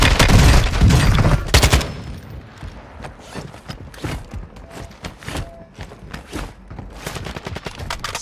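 Gunfire in Warzone 2 opens with a loud burst of rapid shots, then scattered sharp reports and clattering footsteps and gear sounds follow at a lower level.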